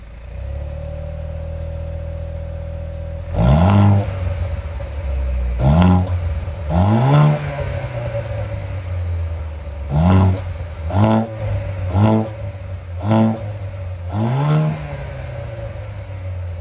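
A Haval H6 GT engine and exhaust in race mode idle with a low hum, then blip through repeated sharp revs that rise and fall quickly, some in quick pairs, loud and close with no talking.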